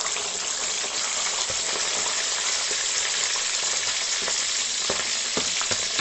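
A large 1.5 kg piece of pork frying in oil, a loud continuous sizzle and crackle with scattered sharp pops, close up and steady throughout, no talking.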